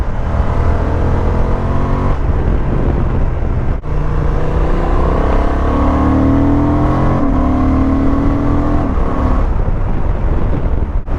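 A 2025 Honda Transalp motorcycle with an up-and-down quick shifter ridden in sport mode, engine droning close and steady with rising pitch sweeps between brief shift dips, over constant wind rush and no speech.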